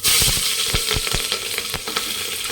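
Green chillies and curry leaves crackle and sizzle in hot oil, a loud close frying hiss broken by sharp spluttering pops.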